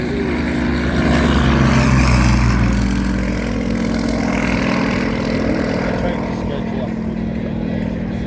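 A Yakovlev Yak-52 performs a flying display at the Central Coast Airshow, its propeller engine roaring loud and steady, the pitch shifting slightly as it passes, with someone talking over it.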